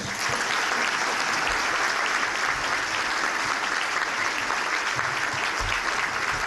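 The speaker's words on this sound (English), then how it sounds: "Please give them a round of applause." Audience applause at a Middlesex Chamber veterans and troops honoring event, a steady, dense wash of many hands clapping throughout, moderately distant and without talk.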